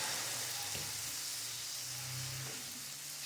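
Chicken with crushed dry coriander, vinegar and soy sauce sizzling in a pan, a steady close hiss with a few soft stirring scrapes.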